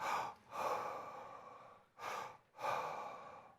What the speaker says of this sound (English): Breathe in through your mouth, breathe out.